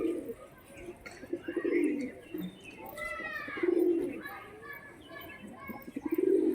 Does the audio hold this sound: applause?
no